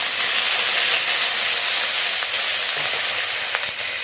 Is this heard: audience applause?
no